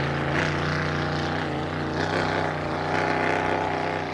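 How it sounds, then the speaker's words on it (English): A 6-litre racing hydroplane, the Desperado, drones with a steady, loud engine tone at a boat race, its pitch wavering slightly and rising in brief surges, with no voices over it. "Liam Owens, the Desperado, 6-litre hydroplane."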